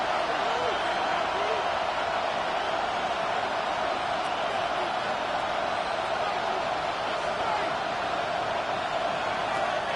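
Dense, roaring football stadium crowd building before a third down in an Eagles game, a constant loud wash of cheering with an announcer talking over it.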